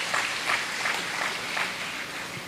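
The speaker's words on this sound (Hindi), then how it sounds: "पहले से ताली ना बजाएं तो अच्छा रहेगा" An audience at a spiritual talk clapping in unison, a steady run of rhythmic claps at moderate distance over a roomy background hum.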